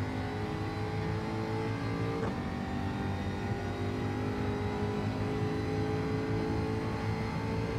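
Group 4 race car engine from the Gran Turismo 7 video game at Watkins Glen, a steady, fairly loud mechanical drone held throughout with one brief shift in pitch partway through, no voices.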